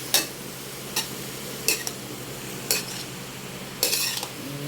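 A utensil stirs chayote, carrot and cauliflower in a pot, giving four sharp clinks spaced about a second apart over a faint low background, with no voices.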